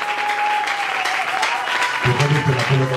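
A church congregation applauds steadily in praise, a full, close wash of clapping throughout, with a voice speaking over it in the second half.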